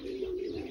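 Racing pigeons coo at the loft after returning from a 130 km race, a brief, soft, low rolling coo against faint background noise.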